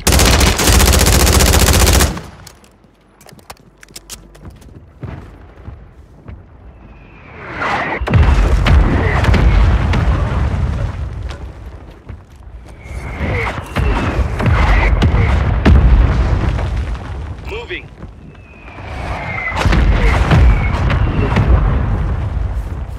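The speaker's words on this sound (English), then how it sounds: "Found a mortar strike." Mortar strike explosions in a shooter video game: booming blasts and rattling bursts come in several waves, loud and close, separated by brief quieter gaps.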